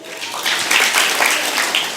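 Temple speech audience clapping along in time to a song about Ram, a steady rhythmic mass of hand claps over a couple of seconds, close and fairly loud.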